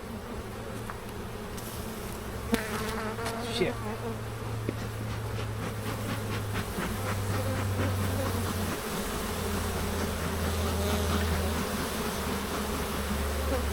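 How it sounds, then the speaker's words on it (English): Dense swarm of honey bees droning steadily and close throughout a large hive inspection, with a brief low exclamation from a person partway through. "Such a lot of bees."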